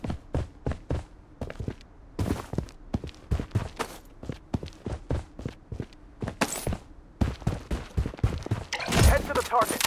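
Rapid bursts of gunfire in the shooter game Blood Strike, dense volleys of sharp cracks mixed with footstep-like taps, with a heavier burst near the end and game voice callouts over it.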